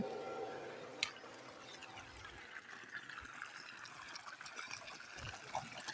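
Water flows steadily from a pipe fed by a VFD inverter pump system, a soft, continuous trickling gush heard at moderate distance with occasional splashes.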